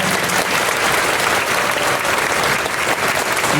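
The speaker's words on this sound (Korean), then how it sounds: "박수로 맞아주시기 바랍니다." Sustained applause from a crowd welcoming an honoree at a Korean Presbyterian church ceremony, dense and steady clapping throughout the short moment.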